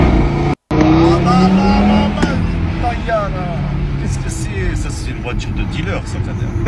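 A Renault Clio engine with a perforated exhaust roars loudly and steadily, with rising and falling revs, beneath overlapping talk.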